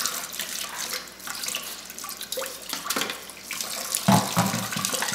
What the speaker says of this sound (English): I'm just going to rinse them off.